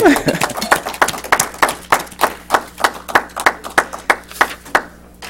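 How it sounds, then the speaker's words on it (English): Members of a Toastmasters-style club applaud newly elected officers with steady, rhythmic clapping, roughly three sharp claps a second, close and fairly loud, slowing and fading out after about five seconds. "Let's give everybody a round of applause."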